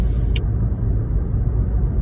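A Volkswagen MK7 GTI drives along, a close, steady low road and engine rumble from inside the car with a brief high hiss early on, no talking.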